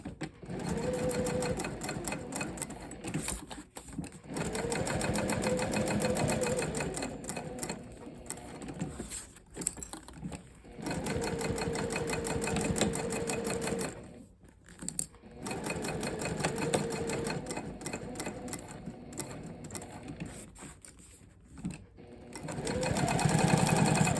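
A sewing machine stitches a business card wallet, backstitching at the joins, running in long steady mechanical bursts with brief pauses between runs, loud and close.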